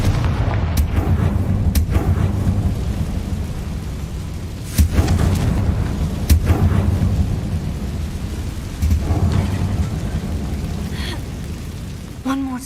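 Confringo fire-spell explosions burst in the Hogwarts Legacy video game, with several sharp booms rising over a constant loud roar of game ambience, the heaviest near the middle.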